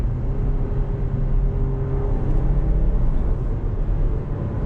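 2024 Lexus NX 350 heard from inside the cabin while downshifting, a steady low engine drone with road noise rising slightly in a mild rev, loud and continuous without talk.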